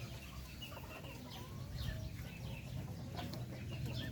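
Chickens peck at grated coconut pulp in a backyard flock, soft clucks and scattered calls over a constant low rumble of ambient noise, faint and slightly distant.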